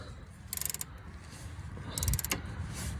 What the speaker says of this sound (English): I'm gonna have to tighten that bolt.